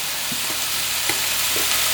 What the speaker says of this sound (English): we're gonna go over to the stove, and we're just gonna brown our meat